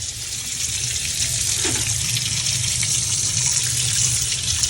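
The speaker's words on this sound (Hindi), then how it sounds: "ये देखो मैं हाथ धो रही हूँ।" Hands washed under a running tap, a constant loud hiss and gush of water pouring into a sink, steady from start to finish with a brief faint shift midway.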